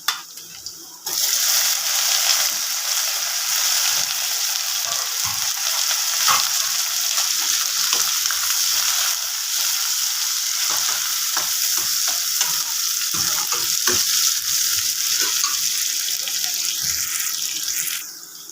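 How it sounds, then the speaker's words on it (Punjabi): Onions frying in a pan, a continuous loud sizzle with intermittent stirring scrapes and clatter, starting abruptly after a short quiet moment. "ਹੁਣ ਆਪਾਂ ਪਾਵਾਂਗੇ ਗੰਡੇ"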